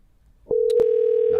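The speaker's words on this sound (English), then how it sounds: "love the sound of the phone" A telephone call goes out, with a couple of short clicks followed by a loud, steady, unbroken dial tone that holds to the end.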